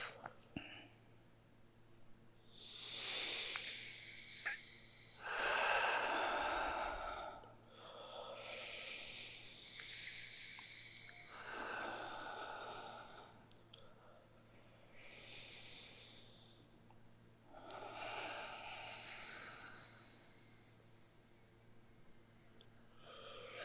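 Several slow, deep breaths drawn in through the nose and let out through the mouth, close and soft, each a breathy rush spaced a few seconds apart, over a faint steady hum.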